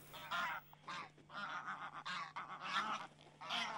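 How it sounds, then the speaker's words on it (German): A huge flock of geese, tens of thousands strong, honks continuously in a dense overlapping chorus on open farmland by the North Sea coast, loud and close, with no speech. "es sind Zehntausende von Gänsen"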